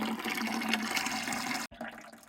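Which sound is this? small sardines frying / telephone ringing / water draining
water draining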